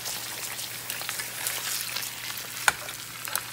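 Onions browning in a frying pan for kare-kare give off a steady close sizzle and hiss, with a couple of sharp pops near the end and no voices.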